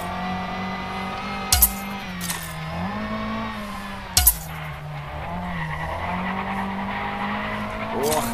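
A Lancia Fulvia rally car engine in the racing game Sebastien Loeb Rally drones steadily with pitch swells through corners, broken by brief sharp bursts of skidding or impact noise.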